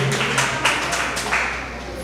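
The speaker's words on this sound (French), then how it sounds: "Applaudissez s'il vous plaît, applaudissez." A few people in a classroom or quiz setting clap briefly, a light scattering of hand claps with some sharper taps, fairly close and fading toward the end.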